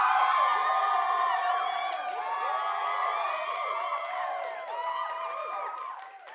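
A canned crowd cheering and applause effect plays loudly and steadily on a Christmas livestream, with whoops and shouts layered over continuous clapping, tapering slightly toward the end.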